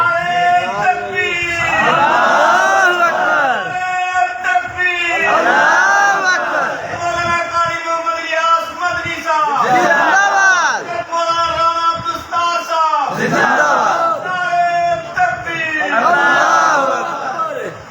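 Crowd at a religious gathering chanting slogans in loud, repeated collective bursts of roughly two seconds each, rising and falling in a steady call-and-response rhythm with brief gaps between.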